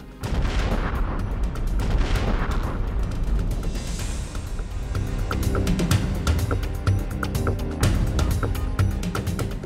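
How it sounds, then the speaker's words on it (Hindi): An Akash surface-to-air missile test launch produces a loud, sustained roar with heavy low rumble and repeated sharp booming bursts running throughout, with no speech. "इसी साल जमीन से हवा में मार करने वाली मिसाइल आकाश का भी सफल परीक्षण हुआ।"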